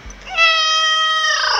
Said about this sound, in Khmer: សំឡេងឆ្មា